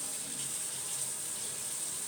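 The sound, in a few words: hot water running for brewing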